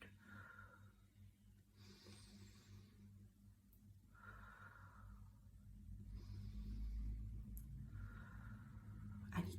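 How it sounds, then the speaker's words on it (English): Slow, deliberate breathing during a five-finger breathing exercise, with two full in-and-out cycles of soft airy inhales and exhales over a low background rumble, faint and close. "you breathe in and follow your thumb up"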